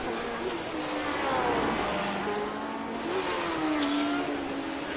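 Historic Formula 1 race cars thunder down the Long Beach back straight, a steady engine drone with rising and falling pitch as they approach, fairly loud and continuous throughout.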